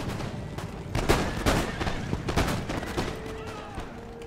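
Line infantry fire a musket volley in Empire Total War, a ragged burst of several loud gunshot cracks spread over a few seconds, with battlefield rumble and scattered shots continuing afterward.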